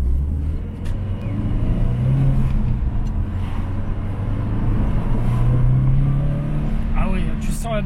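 Subaru Legacy with a turbo accelerating from inside the cabin, engine drone rising in two smooth pulls with a faint turbo whistle, steady road noise beneath and people talking over it.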